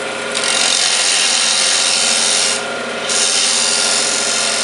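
A lathe cuts a wooden flute end cap with a loud, continuous rasping whir that dips briefly partway through, then resumes at full strength, close by with no talking.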